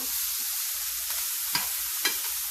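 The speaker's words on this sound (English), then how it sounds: "We're gonna go ahead and stir this some more" Vegetables sizzle steadily in a hot pan while being stirred, with two sharper scrapes of the utensil standing out near the end; no voices.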